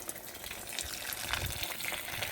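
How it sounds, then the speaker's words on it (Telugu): Water is poured onto garden plants, including white oleander and tulsi, as a faint, uneven splashing and gushing trickle that stays low under light background noise. "చెట్లకి అన్నిటికి నీళ్ళు ఒకేసారి పట్టాల"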